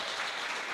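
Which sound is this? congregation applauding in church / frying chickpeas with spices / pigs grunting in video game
congregation applauding in church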